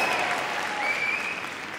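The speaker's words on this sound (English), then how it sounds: "Ladies, let's hear it for Diva" Crowd applauding steadily and fairly close at an RAF police dog display, a continuous clapping wash with no break across the short stretch.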